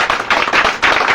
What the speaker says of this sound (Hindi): एक बार आप लोग सर जोरदार ताली मारिएगा सर